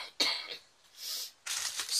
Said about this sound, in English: Sorry for the coughing, guys, but I still do have a little bit of cough.